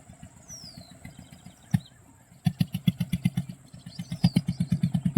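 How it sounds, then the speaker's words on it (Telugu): A repaired fishing boat engine runs on a trial, chugging in a steady, loud rhythm of pulses that pause briefly, then resume stronger and faster, with no voices over it. "ఇంజిన్ రిపేర్ వస్తే రిపేర్ చేసుకుని ట్రైల్ వేస్తున్నారు"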